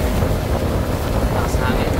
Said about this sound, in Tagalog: Lakas hangin.